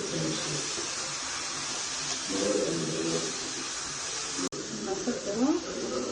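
Tomatoes with salt frying in a pan, a steady broadband sizzle and hiss running throughout at moderate level, with a brief sharp click near the end and faint background sounds underneath.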